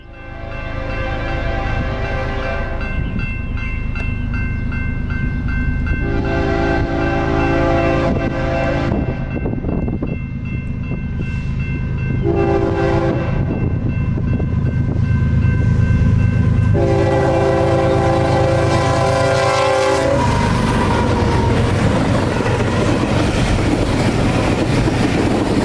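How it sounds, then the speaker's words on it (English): A BNSF eastbound intermodal freight train rolls past the Benedict Street crossing in Chillicothe, Illinois, its horn sounding in loud, sustained blasts over the continuous heavy rumble and rattle of the passing cars. "An eastbound intermodal approaches the Benedict Street crossing in Chillicothe"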